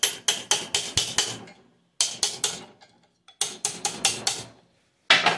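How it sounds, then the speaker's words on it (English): A tack hammer lightly taps a cast jaw lamination down on a standard jaw trap: close, sharp metallic strikes in quick bursts of four or five, separated by short pauses. "So you can just take a tack hammer"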